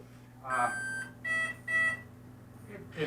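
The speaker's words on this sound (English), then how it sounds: "it beeps the ESC, but it doesn't let the motor run" Electronic speed controller on an E-flite Carbon-Z T-28 Trojan RC airplane gives a few short, clear beeps at varied pitches, spaced apart, close by over a faint hum, with the propeller removed and the motor not running.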